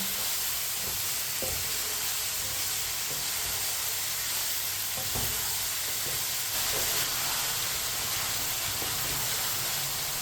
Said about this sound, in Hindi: ऐसे ही चम्मच चलाते हुए पकाना है।